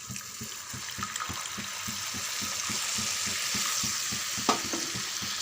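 Coconut kurma masala sizzles in a pan while a spoon stirs in a steady rhythm of soft scrapes, and a quick splash marks water being added near the end; the cooking sounds are fairly quiet and close, with no talking.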